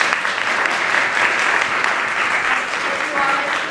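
Steady applause from a university event audience at UCLA fills the space, dense and continuous clapping throughout at a fairly loud level.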